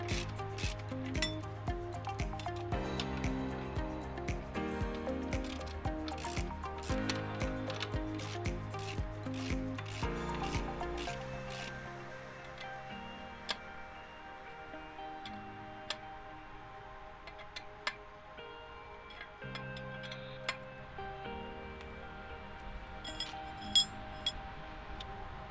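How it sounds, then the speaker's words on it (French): Ratchet wrench tightening bolts on water pipe fittings of a drinking-water network, a steady run of rapid ratcheting clicks and rubbing metal at first, then sparser ticks and scrapes, close and moderately loud. "Utilisez ensuite une clé à cliquet pour resserrer tous les boulons."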